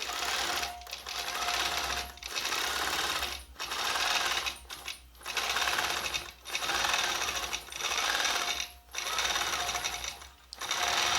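A longarm quilting machine stitches a quilt-as-you-go block, running loud and close in steady bursts of rapid stitching separated by short pauses.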